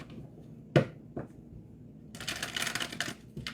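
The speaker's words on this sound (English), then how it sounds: "let's get a couple shuffles with each one of these" A deck of cards is shuffled close by in a quiet room: a couple of sharp taps and knocks, then a soft fluttering riffle near the end.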